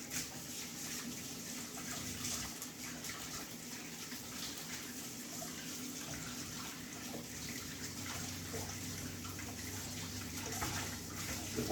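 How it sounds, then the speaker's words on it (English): Water runs steadily from a tap as hands are rinsed of flour after making molasses rosemary bread, a continuous soft splashing gush with no talk. "Just washing off the hands, guys, so I can"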